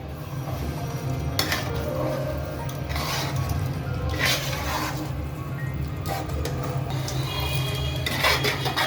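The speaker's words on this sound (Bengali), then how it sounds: "চালটাকে মাংসের সাথে ভালো করে মিলিয়ে নিতে হবে।" Spoon scraping and clinking against a pot as rice is stirred into cooked beef for beef biryani, a steady run of soft scrapes and metallic knocks over a low kitchen hum.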